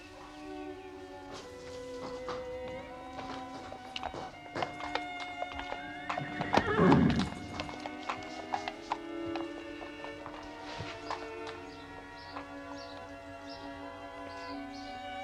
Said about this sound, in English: I'm the only one with a horse like Shoscombe Prince.